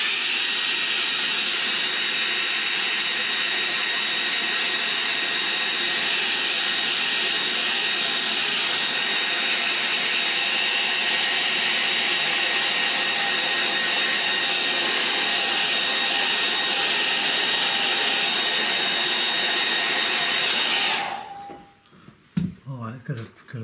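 A hair dryer blows a steady, loud whooshing roar while drying a watercolour painting, running unbroken for about twenty seconds before cutting off abruptly into quiet room noise.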